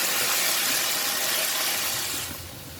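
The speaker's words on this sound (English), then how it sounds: "We want to let it simmer until the bitter gourd is softened" Bitter gourd and pork belly simmer in black bean sauce, giving a steady close bubbling hiss and sizzle that fades slightly near the end, with no talking.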